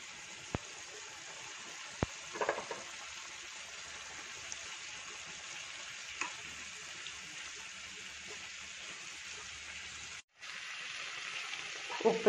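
Chicken pieces fry in a pan with a quiet, continuous sizzle and crackle, a few sharp clicks near the start and a brief dropout before the hiss resumes.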